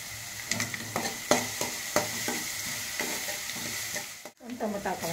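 Onions frying with curry leaves in a home kitchen pan, a steady sizzle broken by repeated scraping stirs at an uneven rhythm, close and moderately loud, with a brief dropout near the end.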